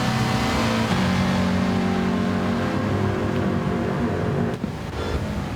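Subaru race car engine on a wet Red Bull Ring in a racing game, a steady loud droning engine note held close, with a brief dip near the end.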